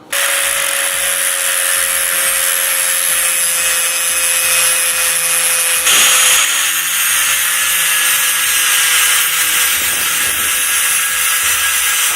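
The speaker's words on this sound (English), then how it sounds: "let's hop over to the grinding table and get these things sharpened" A bench grinder sharpens zero-turn mower blades on a grinding table, giving a loud, continuous high-pitched grinding whine with a steady motor tone that shifts in pitch partway through as the steel is pressed against the wheel.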